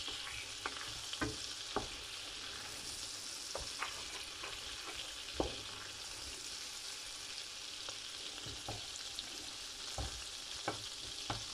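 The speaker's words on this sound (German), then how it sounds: "Die kann man jetzt ein bisschen bräunen, sprich ein bisschen Nussbutter draus machen." Butter browns in a pan for apple strudel, a quiet, even foaming sizzle with scattered faint pops and light ticks throughout, no speech.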